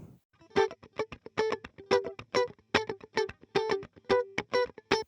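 A distorted funky electric guitar pre-chorus part plays choppy, rhythmic chords with effects, repeated stabs in a steady pattern, clear and upfront with no voices.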